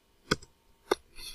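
Two sharp, isolated computer mouse clicks about half a second apart, close and crisp against a quiet room, followed by faint soft tapping.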